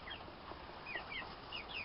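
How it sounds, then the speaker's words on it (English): Frightened young chickens, with a couple of roosters among them, in a brand new coop, giving soft scattered clucks and brief high chirps over a steady rustling background, close by. "There's a hat full of frightened little chickies in their brand new home."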